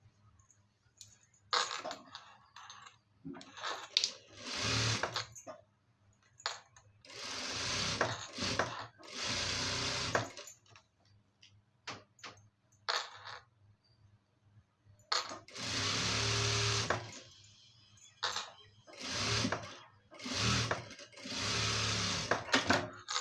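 Domestic sewing machine stitching fabric in repeated bursts of rapid mechanical whirring and clatter, each run lasting a few seconds with short pauses between, close and fairly loud with no talking.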